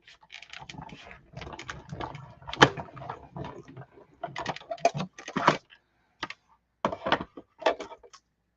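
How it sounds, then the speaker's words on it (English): A card being die cut on a die cutting machine for a Perfectly Pears congratulations card, heard as a run of close clicking, ratcheting mechanical bursts with brief pauses between them, no voice present. "let's go ahead and die cut this"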